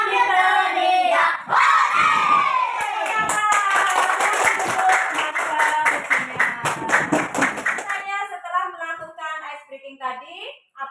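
Schoolchildren in a fourth-grade classroom shout and laugh together during a clapping and hand-rolling game, a loud burst of overlapping young voices with some clapping that fades into scattered chatter.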